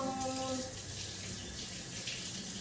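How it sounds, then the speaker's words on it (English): A tap runs steadily as a spoon is rinsed under it, a continuous close splashing stream following a brief faint ringing tone at the start. "Let me rinse off my spoon."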